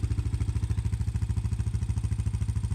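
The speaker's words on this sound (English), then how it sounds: "the motor has such a smooth sound to it" A 2002 Honda Recon ATV engine idles close by, a smooth, steady low putter with an even rapid pulse and no talk over it.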